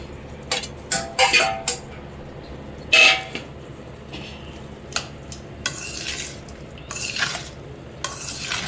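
A spoon stirs and scrapes hot raw-mango rice (chitranna) in a bowl, giving a close run of uneven clinks and scraping bursts with short pauses between strokes; no one speaks.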